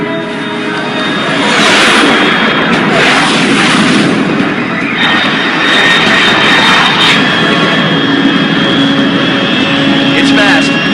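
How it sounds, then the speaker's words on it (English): A fast unidentified aircraft roars overhead at high altitude in Metal Gear Solid 3 Snake Eater Remake, a loud continuous jet-engine rumble and whine sustained throughout, with game sounds mixed in. "Control, unidentified aircraft detected,"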